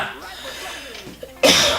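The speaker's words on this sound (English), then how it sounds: "I've got a cough." A person gives one sharp, close cough after swallowing dust. It comes at the end of a short stretch of quieter breathy sounds.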